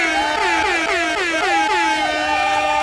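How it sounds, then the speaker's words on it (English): Air horn sound effect blares in a loud, close series of quick wavering blasts, the pitch sliding up and down over about three seconds. "I'm going to give some air horns for y'all"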